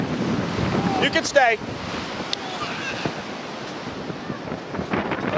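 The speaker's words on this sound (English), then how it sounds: "Because it's too windy here." Gusty wind roars across the microphone on a beach with surf rumbling beneath, and a voice speaks briefly near the middle.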